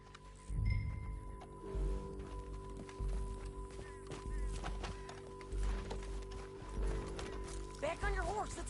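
Horse hooves in Red Dead Redemption 2, a rhythmic clip-clop of a galloping horse kicking up low thuds across open ground, with a neigh near the end. Voices and a steady tonal hum sit underneath.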